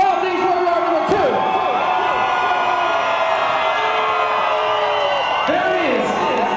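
A packed nightclub crowd at a Halloween costume contest roars and whoops for a finalist, sustained and loud, with high shouted voices rising above the din and an announcer's voice cutting through near the start.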